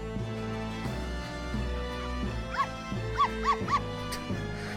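A dog in a video game gives a few short yips and barks over steady background music, fairly close and moderately loud.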